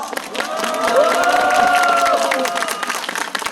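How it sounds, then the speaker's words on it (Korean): A crowd at a rally of self-employed business owners cheers and claps, voices shouting together with scattered applause at a fairly loud level for a few seconds. "더 큰 함성으로 반겨주시기 바랍니다."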